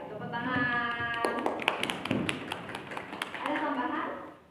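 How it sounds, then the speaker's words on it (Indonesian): Classroom audience breaks into applause after a group presentation, a dense run of claps lasting several seconds with voices mixed in and continuing as it fades at the end. "tepuk tangan"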